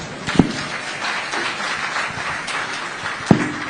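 Steady applause from an audience at a live event in Abuja marking 25 years of democracy. The clapping is moderately loud and continuous, with a couple of sharper individual claps standing out.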